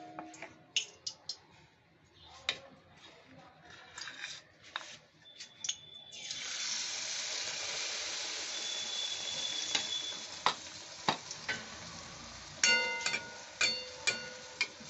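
Water lily stalk fritters dropping into hot oil, a sizzle that swells and holds after a run of scattered clicks and taps, with sharper utensil ticks toward the end.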